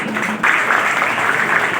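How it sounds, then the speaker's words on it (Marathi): An audience applauds at a student award ceremony, a dense steady clapping that swells suddenly after a brief moment and keeps going, with faint talk underneath. "जोरदार टाळ्या थांबल्या नाही पाहिजेत त्या टाळ्या वाजू द्या"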